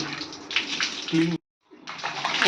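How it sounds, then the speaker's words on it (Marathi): Hands being washed with running water and natural soap, a close steady splashing gush that stops briefly and then resumes. "मी हात धुतला एकदम स्वच्छ"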